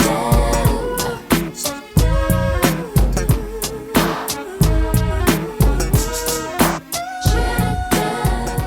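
A full song plays loudly with a punchy, steady drum beat and a low, rhythmic bass line pulsing under the mix.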